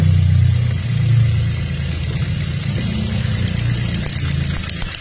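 A Toyota Vios engine idles steadily up close with a leaking ignition coil, its low rumble wavering slightly and stumbling unevenly through the running note, heard alone without voices.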